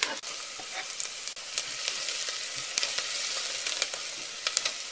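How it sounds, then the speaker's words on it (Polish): Garlic fries with softened onion in a pan for cabbage-roll soup, making a continuous close sizzle. Sharp clicks and scrapes of stirring break through it at intervals. "Teraz wrzucam czosnek."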